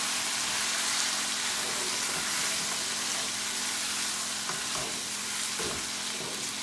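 Chicken karahi with green chilies frying in oil on high heat, giving a steady loud sizzle throughout with scraping stirring sounds as the pan is mixed.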